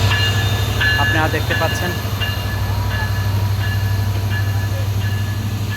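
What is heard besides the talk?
Madhumati Express train arriving at Rajbari railway station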